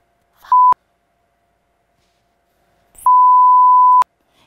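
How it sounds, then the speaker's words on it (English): Two electronic censor beeps, a short one followed by a longer tone about a second long, each cutting in sharply over near silence. "I'm hearing the beep."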